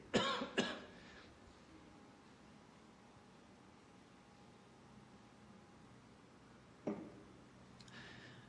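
Two quick coughs at the start, then quiet hiss, and another single cough near the end, close and fairly soft.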